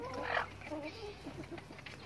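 Clucking from a rooster in a chicken coop: a louder call early on, then softer clucks, with a person talking close by.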